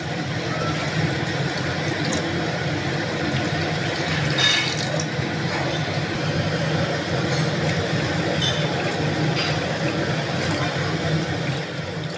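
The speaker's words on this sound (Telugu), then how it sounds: "నేనైతే 2 గ్లాసెస్ ఆఫ్ వాటర్ పోసుకుంటున్నాను" Two glasses of water poured into a pan of cooked tomatoes for semiya upma, a steady liquid rush running continuously under kitchen background noise.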